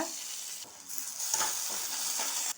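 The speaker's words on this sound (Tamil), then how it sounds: "இப்போ கட் பண்ண வெங்காயம் போட்டு நல்லா வதக்கி விட்டுக்கலாங்க" Chopped onion and curry leaves sauté in hot oil in a pan, giving a soft, steady sizzle broken by brief stirring scrapes.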